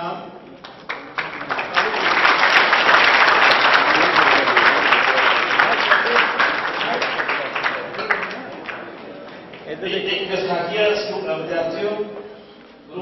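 An audience at a charitable trust prize-giving for schoolchildren breaks into sustained applause, strong for several seconds, easing off, then swelling again briefly, with a speaking voice over the later part.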